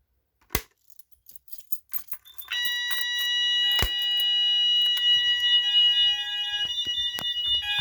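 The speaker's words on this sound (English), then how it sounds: "you'll get to hear the sounder beacon base doing alert" A fire alarm sounder beacon base on a newly installed system sounds its alert tone, a steady, loud electronic warble that runs continuously after a few clicks and knocks at the start.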